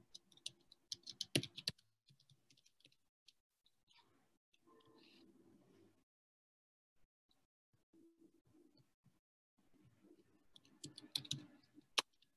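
Keystrokes on a computer keyboard come in scattered bursts of clicking at close range, separated by quiet gaps, with faint low murmurs between them.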